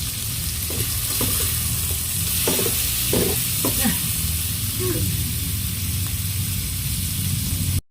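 Chicken pieces frying in a pan, a loud constant sizzle and hiss with scattered pops and clinks as they are stirred, near and unbroken throughout.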